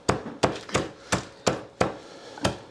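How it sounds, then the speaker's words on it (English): Hammer blows ring out as seven sharp, evenly spaced strikes, each a loud, crisp impact with a short decay, heard close and alone with no talking. "I'm sure the hammering is coming through loud and clear."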